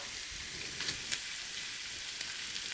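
Corned beef frying in butter on a flat griddle gives a steady, bright hiss of sizzling, close and continuous with faint crackles.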